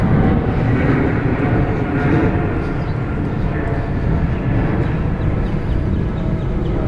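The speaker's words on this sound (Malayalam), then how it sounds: "അതാ പോണു ഫ്ലൈറ്റ്" An airplane passes overhead at The Pearl, Qatar, producing a broad, continuous roar that fills the clip while people talk nearby.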